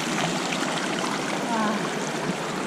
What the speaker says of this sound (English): So we are cooling off in this nice creek.